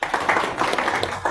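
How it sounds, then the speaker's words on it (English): Applause from an audience at a business forum in Kakamega, Kenya, a dense burst of clapping that runs steadily through the moment without any voices on top. "Another round of applause."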